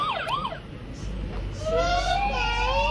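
A toy car steering wheel sounds its electronic police siren, a rising and falling wail that swoops repeatedly at close range, growing louder and fuller toward the end.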